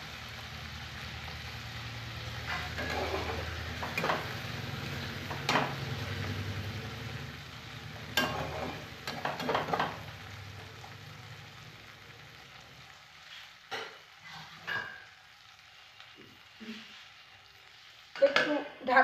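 Spice paste for a cauliflower and curd rohu fish curry frying in a pan after a splash of water, with sharp spitting sizzle bursts and stirring scrapes that fade toward near quiet before a few closing clatters.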